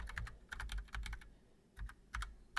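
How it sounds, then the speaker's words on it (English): A computer keyboard is typed on in short bursts of rapid clicking keystrokes separated by brief pauses, close and fairly quiet, with no talking. "now we're gonna type in our destination"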